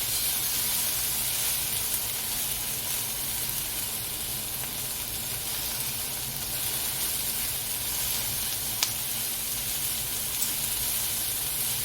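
Peppers sizzle steadily in a hot pan for a plant-based dish, a close, continuous frying hiss with faint crackles and no talking.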